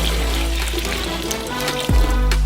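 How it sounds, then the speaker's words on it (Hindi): Water pours into a saucepan of ground coffee, about 5 litres for a giant homemade espresso, a close, steady rushing splash that swells briefly near the end, with no voices. "उन्हें 5 लीटर पानी से भरे।"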